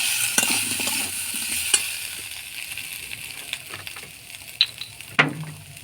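Potato and carrot cook in a pan with turmeric, chilli powder, cumin and ginger paste, giving a soft sizzle under intermittent scraping stirs and a few sharp utensil knocks near the end.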